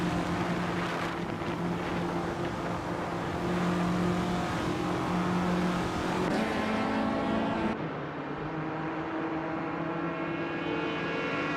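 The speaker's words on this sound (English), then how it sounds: "Arcanacan is in third place, driving a 1968 Holden Monaro" A 1968 Holden Monaro races in a video game, its engine droning steadily and loudly throughout, with a shift in tone near the end.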